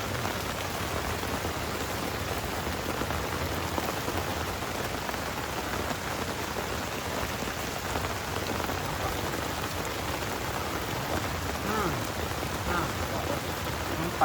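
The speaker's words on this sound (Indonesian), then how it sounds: "Ini contoh hujan." Steady rain pours on a forest campsite by an upstream river, a dense even hiss of drops hitting surfaces throughout, with no voices over it.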